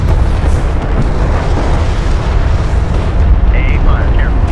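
A hostile cruiser blows up in the video game Homeworld: Deserts of Kharak: a loud, sustained, rumbling explosion with heavy low-end boom, filling the whole stretch with little variation.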